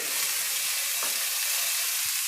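Coriander seeds and chopped coconut frying in a pan give a steady, close sizzle and crackle, with a brief stir or scrape partway through.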